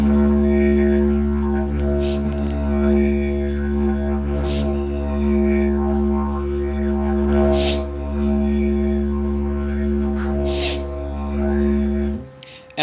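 A didgeridoo drones continuously with a deep, steady fundamental and rich overtones, sustained through circular breathing for about twelve seconds, with periodic brief bursts in the sound as breath is snatched, before cutting off abruptly near the end.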